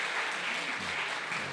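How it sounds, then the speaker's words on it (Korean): Church congregation applauding during a Sunday service, a dense, steady wash of many hands clapping at close range, sustained evenly without pause. "여러분 우리 박수 한번 더 해주시기 바랍니다"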